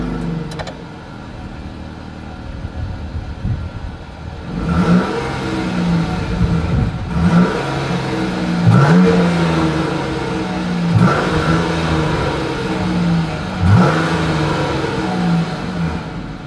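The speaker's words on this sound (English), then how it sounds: "As always, here is that exhaust clip." Exhaust of a 2021 Jeep Grand Cherokee L revved repeatedly, a steady idle broken by several loud, close throttle blips that rise and fall in a regular rhythm, with no talk.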